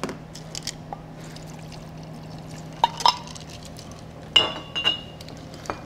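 Ice clinking and tumbling into a cocktail glass at a bar counter while a spicy tequila cocktail is built, a few sharp bright clinks and rattles over a soft steady hum, with a couple of louder bursts near the end.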